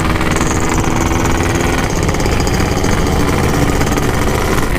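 Yamaha RX-King motorcycle engine running steadily at a loud, close idle, its rough two-stroke burble continuous throughout with no voices.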